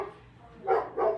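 Dogs barking indoors, two quick loud barks close by, with no talk over them.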